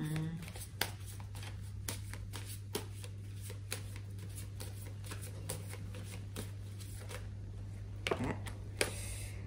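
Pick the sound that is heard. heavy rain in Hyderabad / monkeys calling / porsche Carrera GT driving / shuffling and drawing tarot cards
shuffling and drawing tarot cards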